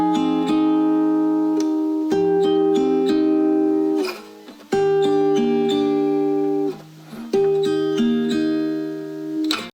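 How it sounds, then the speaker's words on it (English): A guitar plays a simple picked chord progression pattern, notes close and clear, repeating in phrases with brief breaks between them and no voices. "I started recording a simple chord progression on my guitar."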